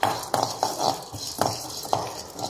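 Chana dal and dried red chillies dry roasting in a pan, heard close as soft rhythmic scrapes and stirring strokes with a faint patter of dry lentils, about seven strokes in quick succession.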